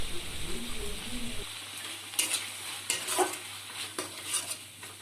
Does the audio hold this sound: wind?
no